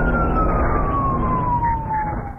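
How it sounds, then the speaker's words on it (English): A police squad car siren wails, sweeping slowly downward over loud road rumble, steady and fairly close throughout. "squad cars that had their lights on and sirens blaring"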